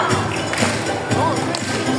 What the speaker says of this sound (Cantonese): 你見到大家拍手好開心啊！